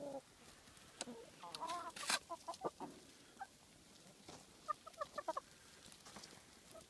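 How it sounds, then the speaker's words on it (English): Chickens cluck softly nearby in scattered short bursts, with a quick run of clucks near the end, against quiet background noise. "Happy chickens."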